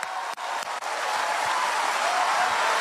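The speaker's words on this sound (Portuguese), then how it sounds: "Se é para aplaudir, aplaude com vontade" A church congregation applauds during a Portuguese-language service led by a missionary, with steady, dense crowd clapping that hangs as a continuous wash for a few seconds.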